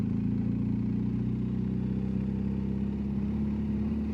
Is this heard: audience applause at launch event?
no